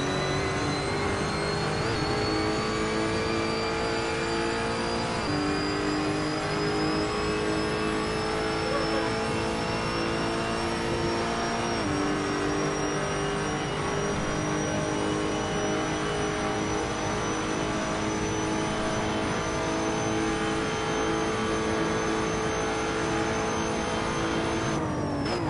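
In Assetto Corsa, a Lotus Evora race car engine revs hard coming out of a corner at Highland, a loud, continuous whining drone that climbs in pitch with a few gear-change dips, alone without talk.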